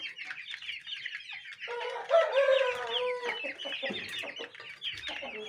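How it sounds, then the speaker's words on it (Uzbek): Young chicks from a small spring batch make high, busy peeping chatter, joined midway by a deeper, clucking fowl call. Nearby and fairly loud, with no speech. "bu eng kichik partiya jo'jalarimiz"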